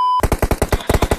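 Rapid automatic gunfire in a competitive shooter game, about a dozen loud, evenly spaced shots in a quick burst right after a brief electronic tone.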